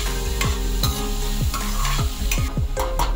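Onion frying lightly in a pan for Malvani-style tender cashew curry, stirred with quick, rhythmic spatula scrapes roughly every third of a second over a constant close sizzle.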